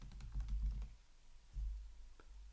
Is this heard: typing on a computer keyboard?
yes